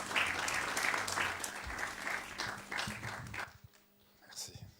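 A church congregation claps and cheers in sustained applause for a few seconds, then it dies down into quieter room sound with a voice beginning.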